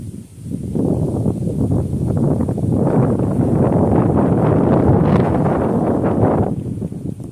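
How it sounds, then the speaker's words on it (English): Strong wind buffets and roars across the microphone beside a river on a warm autumn day, a loud, continuous gusting rush that swells and holds for several seconds before easing. "the wind's starting to pull my braid now"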